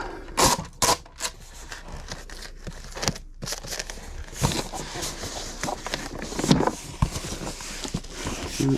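Packing tape pulled and pressed onto a cardboard shipping box for a LEGO order, giving sharp, close rips and crackles in irregular bursts with softer rustling and handling noises between.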